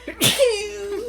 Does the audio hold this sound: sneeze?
yes